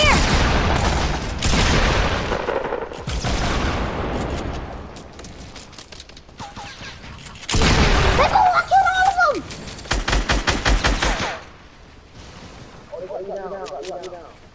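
Video game gunfire comes in loud bursts of rapid shots and booms that start and stop, with excited voices talking over the shooting.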